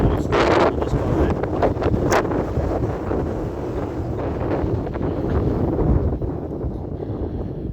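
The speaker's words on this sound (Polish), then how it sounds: "No troszeczkę wieje, troszeczkę wieje, ale to jest normalne w górach." Wind buffets the microphone in the Comeragh Mountains. The gusts roar loud and constant, rising and easing, and a voice talks faintly underneath.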